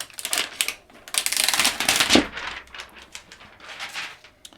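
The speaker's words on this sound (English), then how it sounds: "We're going to want to peel off that inside cover." Protective film being peeled off the inside of a clear Supcase UB plastic case for a 2021 16-inch MacBook Pro, giving close crackling, rustling bursts with a louder tearing peak midway and softer crinkles after.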